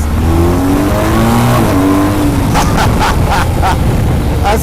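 BMW S1000RR motorcycle engine accelerating hard, a loud continuous roar with rising pitch through the gears, quick shifts near the end producing short pulses, heard close and steady throughout.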